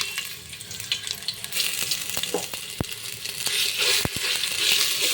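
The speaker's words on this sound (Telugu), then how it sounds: "ఆయిల్ పెట్టుకున్నాక వీటిలన్నిటిని మనం ఆయిల్లో వేసి ఫస్ట్ ఫ్రై చేసుకోవాలి. మనం నూరు పెట్టుకున్నాం కదా, ఈ అల్లం వెల్లుల్లిని వేసేయండి." Ginger garlic paste frying in hot oil for a dum biryani gives a steady, close sizzle with a few sharp clicks of stirring and some watery crackle, with no one talking.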